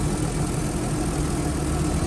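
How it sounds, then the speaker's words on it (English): A 2008 Audi TT convertible's 3.2-litre V6 idles close by, a smooth, steady low rumble with even loudness and no voices over it. "let's listen the engine a little bit"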